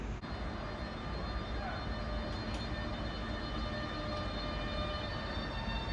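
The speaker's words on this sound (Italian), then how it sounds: "Il treno Italo Alta Velocità 8911, proveniente da Venezia Santa Lucia e diretto a Roma Termini, delle ore 11:35, è in arrivo al binario 1" An Italo high-speed train arrives at a platform at Padova station, producing a steady, loud rushing rumble that fills the whole stretch, with a station announcement voice heard over it.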